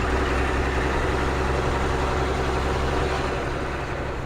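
A Ford CF7000 truck's 6.6L diesel engine idles close by at a low, steady rumble, even and continuous throughout, with no voices over it.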